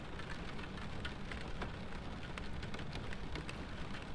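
Steady rain drumming against house windows in the ghost-hunting game Phasmophobia, a dense, continuous patter that stays loud and even throughout with no voices over it.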